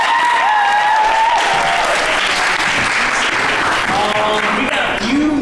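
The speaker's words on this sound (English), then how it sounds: "I think you guys should give yourselves a round of applause just for being here." A theatre audience at a high school show breaks into loud, sustained applause, a thick, continuous roar of clapping with voices and cheering mixed in.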